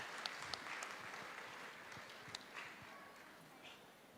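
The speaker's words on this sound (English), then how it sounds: "applause for Akbar Nizamuddin Sahib" An audience at a conversation event applauds a senior trustee, a faint, distant patter of scattered clapping with a few sharper claps standing out.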